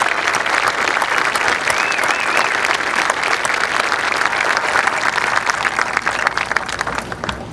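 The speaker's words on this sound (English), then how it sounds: "Let's give a round of applause to our Governor, Edmund G. Brown, for making this day happen." Sustained applause from an outdoor audience at California's high-speed rail groundbreaking ceremony, a dense, steady wash of many hands clapping without pause.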